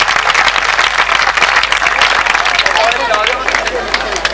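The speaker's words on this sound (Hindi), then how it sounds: "जोरदार तालियां बजा दो भाई, मेहरबानी कर।" Loud, vigorous applause from the crowd at a confirmation ceremony, dense clapping close by and sustained throughout, with a hubbub of voices mixed in.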